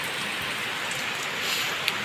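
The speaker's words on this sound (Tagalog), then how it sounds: "Mapagtitiisan yung ulan" Steady rain falls and patters on a surface, a dense even hiss with no breaks, close and moderately loud.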